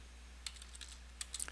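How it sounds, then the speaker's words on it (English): Someone types a command on a computer keyboard in a command prompt. A short, sparse run of soft, close keystrokes plays over a steady low hum. "we're going to type in the following command"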